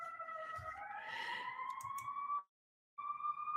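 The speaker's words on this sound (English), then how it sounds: "Put up with the sirens." A wailing siren rises and sweeps in pitch, clear and moderately near, cuts out briefly, then resumes on a steady tone.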